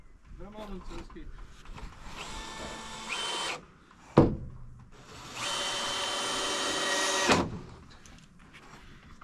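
A power drill boring fresh holes in wooden floor beams for an attic floor, two sustained whirring runs of several seconds with a sharp knock between, close by, with people talking around it.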